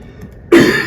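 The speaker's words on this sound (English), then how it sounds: "I apologize for the cough" A single sharp cough from a men's basketball coach at a college media conference, close and loud after a moment of near silence.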